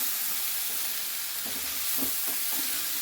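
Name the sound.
stirring beans and carrots frying in pan for pulav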